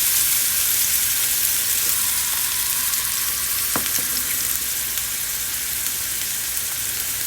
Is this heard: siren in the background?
no